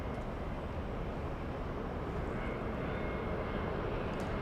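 A Delta airliner in special 100-years livery arrives at LAX, its jet engines a steady broadband roar that stays loud and constant throughout, with no voices.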